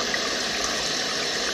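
A toilet tank refills through its flow control valve, with the main supply rushing in and a small stream topping off the bowl, making a steady, close hiss of running water throughout.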